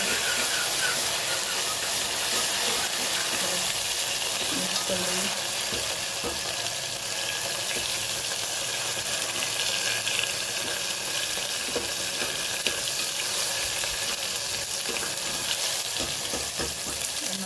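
Cumin, hing, tomato and two garlic cloves sizzle in hot oil for spicy dal, a loud, steady, crackling hiss lasting throughout with no talking.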